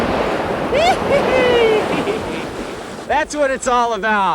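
White water rushes and splashes around a river boat on a wilderness run, a loud steady surge of spray and wind, with someone talking over it near the end.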